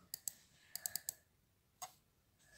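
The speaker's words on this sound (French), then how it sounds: "Je clique sur F3." Computer mouse clicks while working in Excel, a quick pair and then a rapid burst of four sharp, close clicks, with one more later over quiet room tone.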